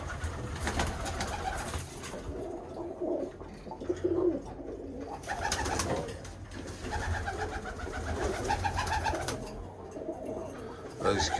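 Birmingham Roller pigeons coo continuously inside a cramped loft, overlapping throaty calls from several birds close by with no talk.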